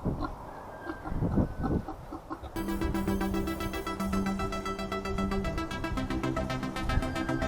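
Chickens cluck in a hay-filled farm barn, a burst of several close, loud clucks followed by a dense, steady background of animal and barn noise.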